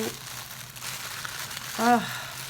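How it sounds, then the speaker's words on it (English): Tissue paper crinkles and rustles briefly while a gift is unwrapped during a craft tag exchange, with a louder crumple near the end under a quiet indoor background. "even the sound of this tissue paper is just glorious."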